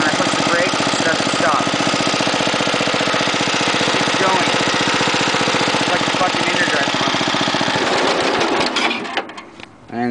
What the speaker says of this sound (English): that stalled because the motor was on low